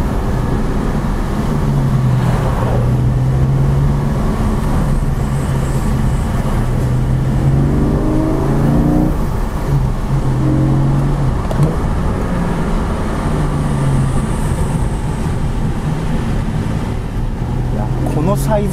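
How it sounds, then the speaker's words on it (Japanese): Porsche 718 Boxster Spyder with the sport exhaust on, driven fast on a mountain pass, its engine drone steady and loud throughout, pitch rising and falling through gear changes, with someone talking over it. "今エグゾーストをですねオンにして、ちょっとペースを上げてですね走ってみたいと思います。"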